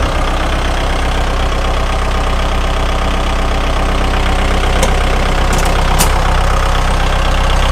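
A 2018 Kubota L5018 tractor's diesel engine idles close by, a loud, steady, unbroken rumble with a few faint clicks near the end and no speech.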